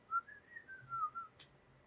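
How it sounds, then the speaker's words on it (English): A lone person whistles a short, clear melodic phrase, soft and close, ending in a brief breathy click, with quiet background and no talking. "It could be whistled."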